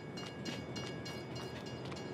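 A freight train rolls through a rail yard in the Farming Simulator 22 video game, giving a steady, loud rumble and rattle of rail cars that runs throughout with no break.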